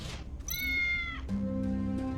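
A cat meows in the video game Tales of the Neon Sea, giving two distinct, fairly loud tonal meows in quick succession over a low background hum, with no talk.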